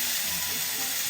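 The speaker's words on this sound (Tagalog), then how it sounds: "Prito na natin. Pag mainit yung kawali, hindi masyadong matilabsot." Yellowfin tuna fries in a hot pan, giving a steady, close, broadband sizzle that holds evenly throughout with no voices.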